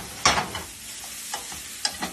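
Peppers and onions sizzle softly in a hot pan in a home kitchen. A few sharp stirring scrapes and clatters break through the low frying hiss at irregular moments.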